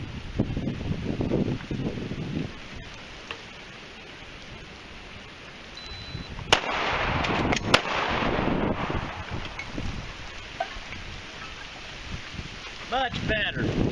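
Two sharp pistol shots ring out amid wind noise on an outdoor range during an emergency reload drill, the first shot about midway and the second a moment later after the reload.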